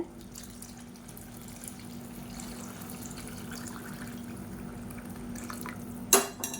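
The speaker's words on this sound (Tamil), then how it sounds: "நல்லா சூடான தண்ணியாக சேர்த்துக்கோங்க" Hot water is poured into a pan of sautéed tomato masala for paruppu urundai dal kulambu, giving a faint, steady liquid rush with a brief clink of a vessel near the end.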